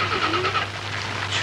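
A car engine runs with a steady low hum and some raspy mid-range noise, close and continuous over a short stretch.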